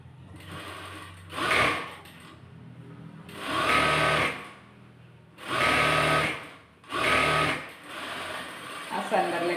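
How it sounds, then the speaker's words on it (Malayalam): A sewing machine runs in four separate bursts of rapid stitching while double-stitching a slit churidar, each run lasting about a second with short pauses in between, close by and fairly loud. "തിരിച്ചു വച്ച് ഡബിൾ സ്റ്റിച്ച് കൊടുക്കുക."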